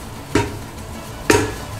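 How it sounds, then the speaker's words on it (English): Onion stirred with a wooden spatula in a pan for birria tacos, two distinct scraping knocks about a second apart over a quiet sizzle, close and moderately loud. "You mix that shit around with the onion."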